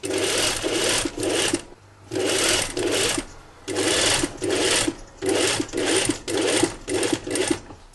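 Sewing machine stitching a jacket, rapid needle chatter running in several bursts of one to two seconds with short pauses between, close and steady, no speech over it.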